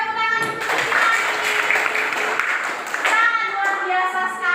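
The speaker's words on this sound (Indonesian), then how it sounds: "Kita tepuk tangan untuk Priscilani." Children in a classroom clap together for a classmate, a quick lively burst of hand claps mixed with a voice speaking over them.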